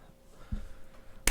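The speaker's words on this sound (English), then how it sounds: "That gentle clap." One gentle hand clap, a single sharp crack near the end after a soft thump and quiet room tone.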